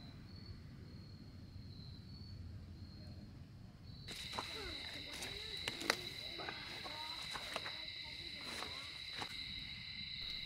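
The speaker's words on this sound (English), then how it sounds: "the activities across the campground wanes down as the sound of crickets took over" Crickets chirp at a state park campground in Cloudland Canyon at dusk, a steady high-pitched trill that swells in suddenly a few seconds in and then holds on, fairly loud, over a low ambient hum.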